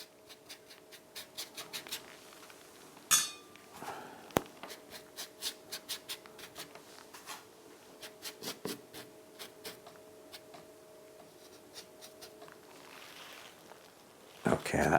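A flat watercolour brush stroking across paper while painting an old red sugar house landscape, repeated soft scratchy swishes in a steady rhythm, heard close with a few sharper taps in between.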